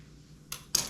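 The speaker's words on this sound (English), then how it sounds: "I'm going to cut this in half because it's pretty long" A long item is cut in half while making homemade probiotics, giving two brief, sharp, close cutting noises a moment apart with no talking.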